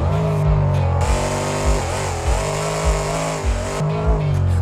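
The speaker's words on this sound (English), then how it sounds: "Another trick that monster trucks can do is a wheelie." A monster truck's big engine roars steadily at high revs while it balances on its rear wheels in a wheelie, loud and close, with repeated surges and dips in pitch as the throttle is worked.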